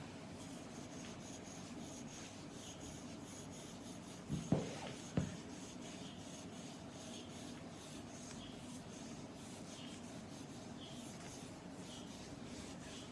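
A massage scraping tool drawn across skin makes a steady, faint rubbing rasp, with a few soft knocks partway through.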